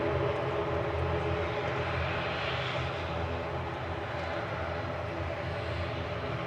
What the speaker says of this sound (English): Air Rigny coming in from Guernsey there